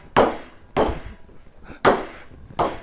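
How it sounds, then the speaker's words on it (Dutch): Chocolate being chopped into chips with a knife on a board while baking: four sharp, loud chops spaced about a second apart, with no talking. "Ik ga deze verchippen"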